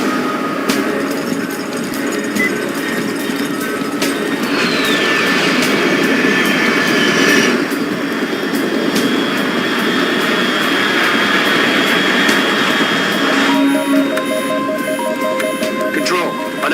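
A fast jet aircraft flies high overhead in the Metal Gear Solid Delta video game, a loud continuous engine roar with a whining tone, under radio-style talk and game sound effects.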